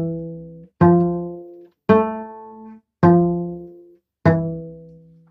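Cello plucked pizzicato playing the Sakura melody, five resonant plucked notes in slow, even succession, each ringing and decaying before the next, played alone and close.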